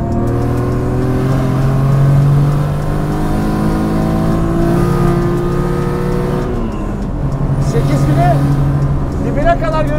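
A BMW Z3 fitted with a Supra engine of about 600 horsepower revs hard toward 8000 rpm with a loud, rising engine drone from inside the car as the gears shift, while people talk over it.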